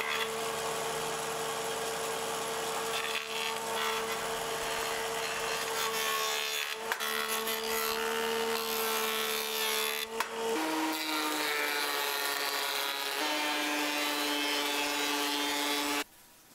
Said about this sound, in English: Joint these two straighter, and then we're gonna plane them, and they'll be fine.